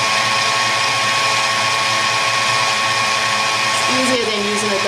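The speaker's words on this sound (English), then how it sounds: "Just keep using your mixer." An electric hand mixer whips egg whites for a passion fruit mousse, giving a steady, loud motor whine with a shift in pitch near the end as the beaters move through the foam.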